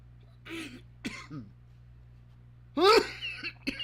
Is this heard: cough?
yes